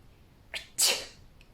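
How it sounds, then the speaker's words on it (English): A single close, sharp sneeze, a small lead-in breath followed by a bright explosive burst, in a quiet room. "Peter sneezed."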